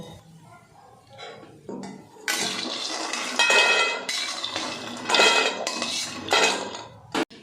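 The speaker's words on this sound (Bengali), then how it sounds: "সয়াবিনটা আমার ভাজা হয়ে গেছে। এরপর আমি এটা একটা পাত্রের মধ্যে তুলে নেব।" Fried soybeans are scraped from a pan into a bowl, with metal utensils clattering and clinking in bursts of varying loudness close by.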